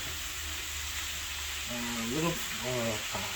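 Onions sauté in a pan for a twice-baked sweet potato dish, giving a constant gentle sizzle and hiss; voices talk over it during the second half.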